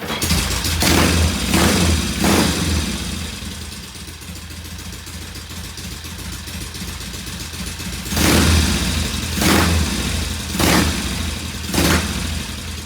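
A high compression Norton motorcycle engine, sat overnight, starts from cold with a few loud kick-like bursts, settles into a steady close idle, then gets several sharp throttle blips near the end.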